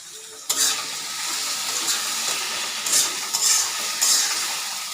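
Chopped tomatoes hit a pan of frying chicken with a sharp burst of sizzle, then steady frying crackle and stirring scrapes continue, with a few louder flare-ups of hiss close by.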